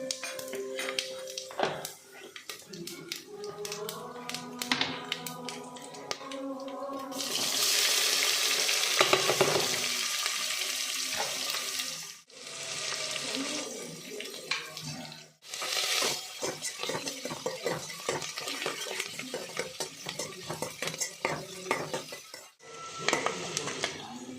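Radish sambar ingredients sizzling and frying in a pan, with a loud burst of hissing oil partway through, stirring scrapes and utensil clinks, and a few quieter gaps.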